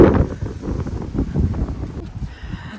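Strong gusty wind buffets the microphone outdoors near a hospital, a loud continuous rumbling roar with fluctuating gusts throughout.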